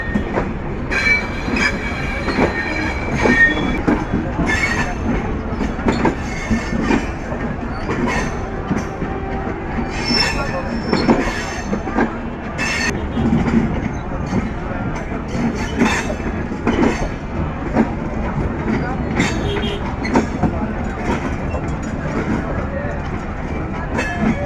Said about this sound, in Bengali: ধীরে ধীরে ট্রেনটি জয়দেবপুর স্টেশনে পঞ্চগড় এক্সপ্রেস ট্রেনটি এই পঞ্চগড় থেকে ট্রেনটি চলে আসলো।